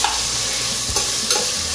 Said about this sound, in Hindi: अदरक लहसुन को थोड़ा सा भून लेंगे ताकि इसमें से जो स्मेल आ रही है वो थोड़ी सी कम हो जाए।